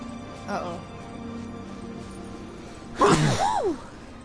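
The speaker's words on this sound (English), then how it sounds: "I'm fine, just sneezing." A person sneezes once, loud and close, with a short breathy lead-in and a sharp burst trailing into a rising-falling voiced tail over quiet background.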